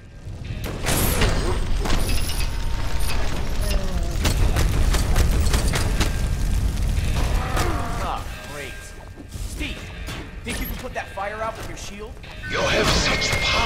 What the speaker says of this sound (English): Activating cannon defenses.